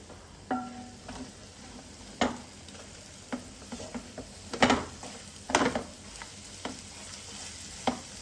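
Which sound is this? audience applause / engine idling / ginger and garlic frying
ginger and garlic frying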